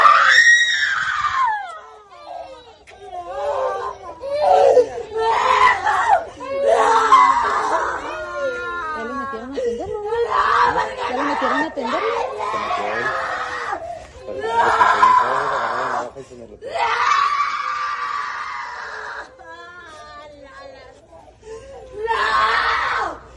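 A woman screams again and again in long, anguished, wavering cries separated by short gaps, loud and close, with other voices murmuring faintly around her.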